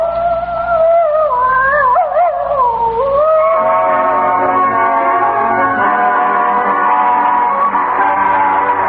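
A hound named Bugle Ann howls long and loud, her wavering, rising and falling voice sustained for several seconds over a low background rumble.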